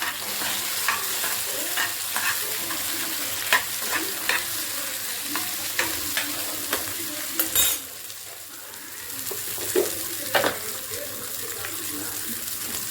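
Dried red chillies frying in a pan, a steady close sizzle broken by repeated sharp clinks and scrapes of stirring, with a short quieter gap near the middle.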